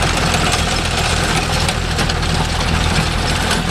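Mahindra Arjun Novo 605 tractor engine with a noisy silencer runs at a steady, loud, close idle, its low rumble and continuous throb constant throughout.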